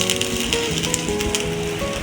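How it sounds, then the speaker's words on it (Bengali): Ginger and green chillies sizzling in a small amount of white oil in a pan, a steady dense crackle and hiss that stays loud and close throughout, with no voices. "অল্প একটু, সামান্য একটু সাদা তেলে আদা আর কাঁচা লঙ্কা দিয়েছি"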